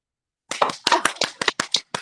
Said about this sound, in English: Let's clap for Miss Miko.